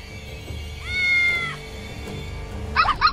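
Cartoon cat soldiers meowing: a drawn-out, rising-then-falling meow near the middle, followed later by a couple of sharp, shrill mews over a low musical background.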